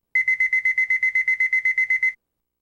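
A rapid electronic alarm in the video game Metal Wolf (Dreamcast), about fifteen identical sharp beeps pulsing evenly for two seconds, loud and close, then stopping abruptly.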